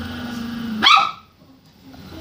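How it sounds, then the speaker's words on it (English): A dog gives one sharp, loud bark close by, following a voice and background game sound, then things go quiet. "I just have a crazy dog."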